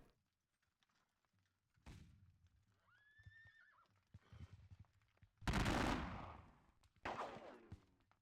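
Musket counter fire crackles in a Napoleonic war video game, with two loud bursts of volleys rising out of a quiet field, mixed in with a horse's whinny and scattered smaller shots at a distance.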